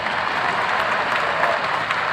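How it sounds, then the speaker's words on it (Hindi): Crowd applause at a large outdoor religious gathering in India, a steady dense wash of clapping hands sustained throughout with no break or speech over it. "ताली बजा करके।"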